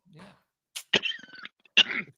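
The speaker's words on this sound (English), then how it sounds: "I was just coughing" A few short, close coughs separated by brief silences, with a faint breathy sound beforehand.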